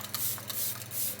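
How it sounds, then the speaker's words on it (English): Short bursts of Makeup by Mario setting spray misted from a pump bottle, several soft quick hisses in a row, close and quiet. "I'm gonna spray a little bit of the Makeup by Mario setting spray after that"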